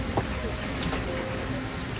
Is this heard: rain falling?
yes